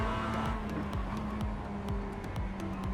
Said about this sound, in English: We've got a back marker overtaking us.